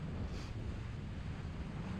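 Choppy lake waves slapping against a small motorboat heading up the red and green boat lanes, a steady loud wash of water and wind rush with no talk.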